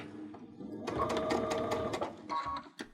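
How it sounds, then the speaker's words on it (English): A Baby Lock Unity sewing machine stitches pintucks in a short, close burst of rapid needle clatter, then stops briefly and runs again for a moment. "And now we sew."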